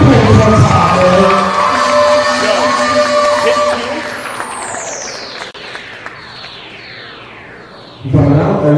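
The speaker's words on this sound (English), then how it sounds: "Clap it up for Coach one time" A crowd at a high school game between Thomas Jefferson and Eagle Academy cheers and shouts loudly and continuously. A long whistle sweeps downward midway, and the noise swells again at the end.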